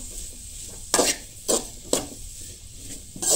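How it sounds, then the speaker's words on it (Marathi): Onions roasting in a pan for chicken gravy, with a few sharp scraping strokes of a spoon against the metal standing out over a faint, steady sizzle, no voices. "आता कांदोय बीन बरोसो भाजून घेया।"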